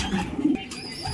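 A racing homing pigeon coos softly on arrival from a 20 km training flight, a brief low burbling call heard close by against outdoor background noise.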